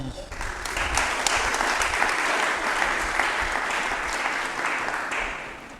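Hearty applause from the general assembly of professional plasterers in Côte d'Ivoire, loud dense clapping filling the hall for several seconds before easing off, with a voice briefly audible at the start.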